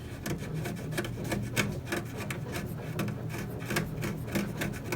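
Old finish is scraped and rubbed off the wooden cabinet of a 1948 Hallicrafters TV under restoration, a steady close rasping with rhythmic strokes throughout, no talk.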